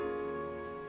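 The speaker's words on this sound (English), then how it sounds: "the rain was falling hard that night" Steady hiss of heavy rain falling hard at night, a dense continuous wash with no voices.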